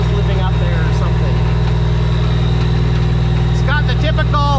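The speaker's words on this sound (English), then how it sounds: "And idle her up, get some heat in the engine" A steady, low, rumbling diesel idle from an old Peterbilt truck engine runs throughout, close and constant, with a voice briefly speaking over it.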